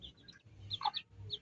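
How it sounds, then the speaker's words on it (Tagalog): A brooding hen with her chicks in a Philippine backyard coop, soft close clucks and thin high chick peeps in quick, scattered bursts. "Dami niyang manok."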